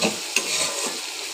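Mankochu taro pieces fry in a pan, giving a brief, bright, steady sizzle with one sharp clack near the start, close and unaccompanied.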